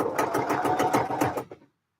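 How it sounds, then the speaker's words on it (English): Sewing machine with an edge stitch foot top stitching a pocket, a close, rapid rhythmic whirring chatter that runs steadily and then stops abruptly, leaving silence. "this is the actual top stitching that I'm doing now that's going to be visible"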